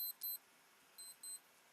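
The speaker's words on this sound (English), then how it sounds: "Oh, what is beeping now? Oh, my watch." A wristwatch gives two short bursts of high, thin electronic beeps, a quick double chirp, then after a pause another pair, faint and close in a quiet room.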